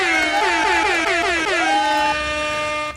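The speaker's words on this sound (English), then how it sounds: "You know what you about to get? An air horn." A loud, close air horn blares in a wavering, warbling pattern, its pitch sliding up and down before settling into a sustained steady blast for about three seconds, alone without speech.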